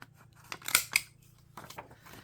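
Scissors round off the corners of paper for a flip-flop journal, with a few close, crisp snips in two quick clusters.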